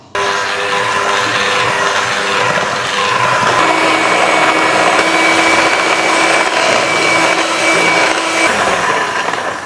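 An electric mixer beats 250 grams of butter with 250 grams of powdered sugar for a coconut cake, a loud, close, continuous motor whir whose pitch drops a few seconds in and then holds steady.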